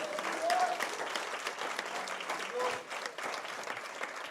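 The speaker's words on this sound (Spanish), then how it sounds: "Dele un aplauso al Señor" A congregation at a Spanish-language church sermon applauds, with fairly faint, sustained clapping and a few voices mixed in.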